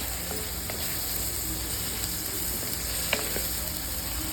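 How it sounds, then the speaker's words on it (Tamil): Boiled mutton going into a pan of fried onions and tomatoes, giving a steady, moderate sizzle and hiss of frying food with faint stirring clicks throughout and no talk. "இப்போ அவிச்சி வச்ச மட்டனை எடுத்து இப்போ அதில் ஊற்றிக்கலாம்."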